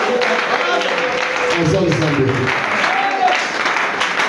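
Church congregation applauding in praise of God, a dense wash of clapping mixed with shouting voices and cheers throughout.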